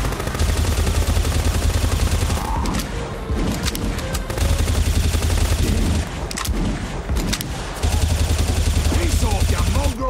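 Bombs exploding in the Zelda game Adventure of Link, heard as dense bursts of rapid blasts over a loud game soundtrack, broken by short pauses and a few stretches with voices.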